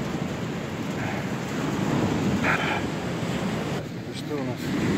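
Winter rain falls steadily at the sea in Odessa, a broad wash of hiss with surf rumbling underneath, loud and constant throughout with a slight dip near the end.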